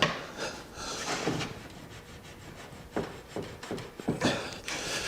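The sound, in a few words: wooden mortise and tenon table being taken apart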